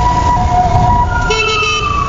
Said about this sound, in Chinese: 停等红灯时，就可以听到远方传来救护车鸣笛声